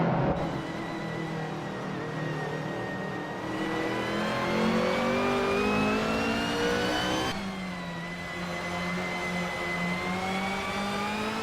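A 1991 Nissan Primera P10 race car engine in a racing video game drones steadily at high revs, its harmonic whine holding pitch throughout with a brief dip and shift near the end, loud and continuous with no talking.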